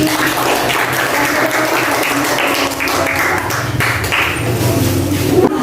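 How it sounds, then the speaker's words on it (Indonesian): A classroom full of students applauds classmates who earned stars, a steady, dense wash of clapping that holds its level throughout with faint chatter mixed in. "tepuk tangan yang mendapatkan bintang hari ini"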